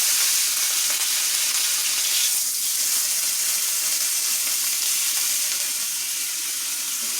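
Steak searing in a hot pan gives a steady, broad hiss of sizzling that runs close and fairly loud for the whole stretch, with no talk over it.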